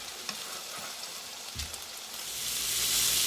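Pork chops sizzle in butter in a pan, a close, steady crackling hiss with a few soft pops and scrapes, swelling louder near the end, with no voices.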